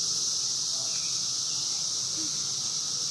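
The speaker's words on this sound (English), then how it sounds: "when they play the sound of the cicadas, it sounds like one of those things that you would like play to get you to fall asleep" Steady high-pitched buzzing drone of cicadas from a South Carolina news broadcast, continuous and even throughout with a faint hiss underneath and no other sounds.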